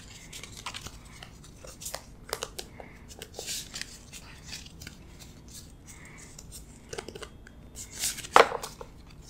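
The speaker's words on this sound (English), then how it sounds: "I'm now gonna shuffle the remaining character, weapon, and room cards together." A deck of Clue board game character, weapon and room cards being shuffled, with soft, close papery riffles and taps in irregular bursts and a sharper snap near the end.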